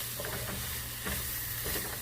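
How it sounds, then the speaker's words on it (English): Vegetables for shrimp étouffée sauté in a pan with a soft, steady sizzle and light stirring scrapes, fairly faint over a low background hum, with no voices. "we're just going to saute it briefly just until the vegetables become a little tender"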